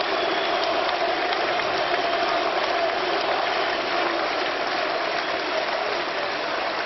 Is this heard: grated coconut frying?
no